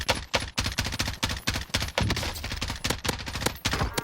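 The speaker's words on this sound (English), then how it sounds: "See, this is automatic fire and this is pulse." Weapon fire in the Warzone video game, automatic bursts followed by pulsed shots, rattles out as dense, loud, rapid cracks for about four seconds, close and continuous with brief gaps between strings of shots.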